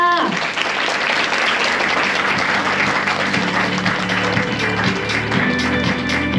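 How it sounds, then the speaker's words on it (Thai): Audience at a K-Webtoon workshop breaking into sustained, even applause, a dense wash of clapping that continues steadily at a close, full level throughout. "ขอเสียงปรบมือด้วยค่ะ"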